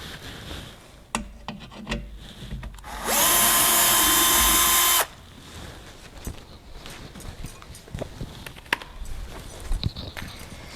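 A power drill spins for about two seconds, loud and near, while removing bolts from a Little Foot frame, with quieter clicks and handling noises of parts before and after.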